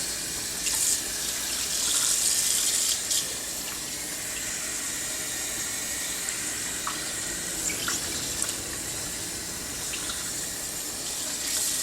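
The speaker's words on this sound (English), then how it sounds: "I think I'll wash the sink a little bit more" Water runs steadily from a tap into an old 40-year-old kitchen sink being scrubbed clean, a continuous hiss with occasional splashes and light knocks, close and moderately loud.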